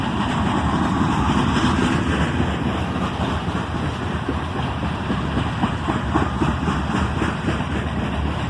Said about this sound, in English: The 3 locomotives are getting this train up to speed in no time.